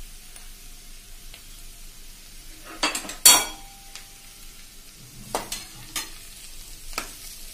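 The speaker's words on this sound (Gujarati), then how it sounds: "અને વ્યવસ્થિત મિક્સ કરીને પછી આપણે આને આ રીતે બટેટાને અંદર મિક્સ કરી દેવાના છે" Potato samosa filling being mixed with salt in a pan, soft stirring scrapes and a few sharp utensil clinks against the metal, with quiet gaps between strokes.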